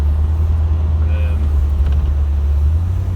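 A 1990 Corvette C4 rolls along a road with a loud, steady low engine and tyre rumble heard from inside, a faint thump or two from bumps sitting under the constant drone.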